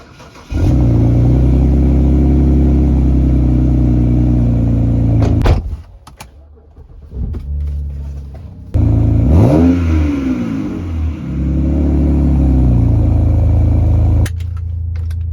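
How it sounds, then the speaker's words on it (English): A 2008 BMW 328i with aftermarket exhaust tips and a muffler replaced by a cherry bomb, revved hard in several loud, raspy bursts separated by short idle dips, with sharp rising and falling sweeps and crackles between pulls. "These exhaust tips, as well as a muffler elite with just a cherry bomb. Here's what it sounds like."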